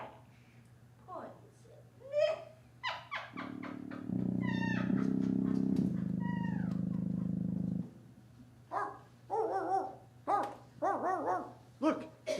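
Dorothy's dog in a radio play barks and yaps in short bursts amid lively character voices, with a sustained low musical tone holding beneath part of the scene.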